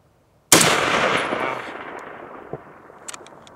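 A single M1 Garand rifle shot cracks out loud and sharp, then its report rolls away in a long fading echo across the range at 1050 yards, with faint clicks afterward.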